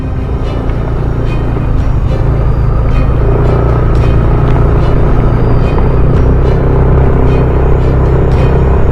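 A car engine drones loudly and steadily as it labors up the rough, boulder-strewn Kennon Road toward Baguio City, its wheels slipping, with a continuous low rumble and rattling throughout.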